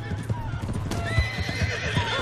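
Horse hooves clip-clop in a steady rhythm with a whinny rising over them, from a horse in the Red Dead Redemption 2 video game, close and fairly loud throughout.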